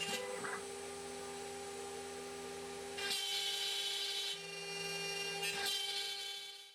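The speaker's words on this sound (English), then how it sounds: "A special jig had to be made to hold the very small block of wood in place while the machine did the cutting." A homemade CNC router cuts a very small wood block held in a jig, giving a steady high-pitched whine over a constant hum, with bursts of louder cutting noise, heard faintly and alone.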